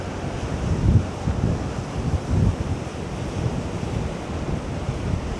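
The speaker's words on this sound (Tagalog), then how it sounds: "Ang lakas ng alon, lakas ng hangin." Strong wind and surf on the Malta coast, with waves crashing in broad rolling surges and heavy wind buffeting the microphone throughout, loud and close with no talk.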